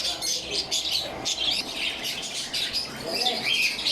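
African lovebirds chirp constantly in a pet shop, a dense, busy chorus of overlapping high tweets and calls from many birds close by, steady throughout with no talk.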